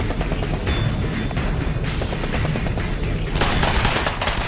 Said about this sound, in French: les tirs reprennent de plus belle